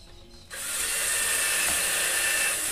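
After a quiet moment, a power drill spins up and bores a small bit into wood for a cabinet-door drilling bench, a close, steady high whir that continues to the end.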